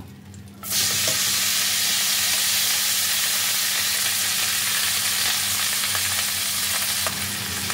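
Fresh fenugreek leaves hit melted butter in a pan and a loud, steady sizzle of frying starts right away and holds with little change, broken only by a few faint stirring clicks.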